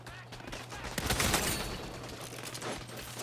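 Police opening fire in the Saints Row video game, quick bursts of automatic gunshots layered over a steady game hum, moderately loud and sustained.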